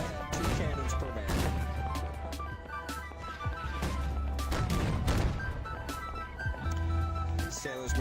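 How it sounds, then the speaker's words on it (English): Cannons firing in a naval combat video game, a dense barrage of booming shots and crashes repeating through the stretch under a loud, busy mix of game noise. "There's the cannons firing"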